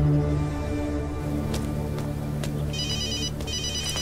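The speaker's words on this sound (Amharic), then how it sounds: "ይሄ ስልክ መጥራቱን አያውቁም።" A telephone rings indoors in a home during a family drama, a steady tonal ringtone with repeating beeping bursts heard over a sustained musical background bed, with no talking.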